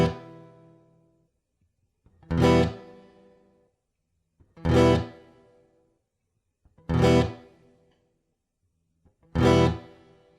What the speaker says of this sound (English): we can adjust what types of reverb we want.